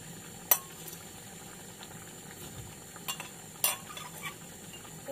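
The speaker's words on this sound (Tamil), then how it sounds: "தூள் கொதிச்சோண்டிருக்கு" Spiced yam gravy bubbles in a pan, a soft, continuous simmer with a few sharp clinks of a spoon or utensil against the pan, close and quiet, with no speech.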